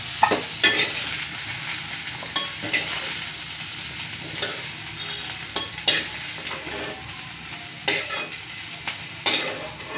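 Tomatoes fry in a pan with a steady hiss of sizzling, broken by repeated scraping, clattering strokes as they are stirred, close and without speech.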